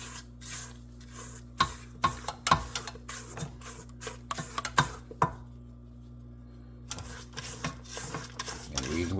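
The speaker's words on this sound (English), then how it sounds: "Now we're gonna scrape down." A spatula scrapes down a mixing bowl of banana nut bread batter, producing a series of sharp close taps and scrapes in an uneven rhythm, with a quiet pause before more knocks.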